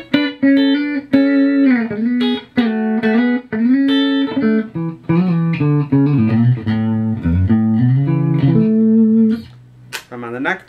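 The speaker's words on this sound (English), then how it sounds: "Lovely neck and bridge sound, kind of telly-like." A seven-string Rice Custom CSS7 strat-style electric guitar, neck and bridge pickups blended, plays a bright, twangy melodic phrase with clean, ringing notes, loud and close, with no talking.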